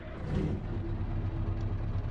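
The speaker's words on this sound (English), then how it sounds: "Let's embarrassingly start up the truck again." A truck engine in Euro Truck Simulator 2 runs with a steady low rumble and hum throughout, a continuous mid-loud drone with no talking.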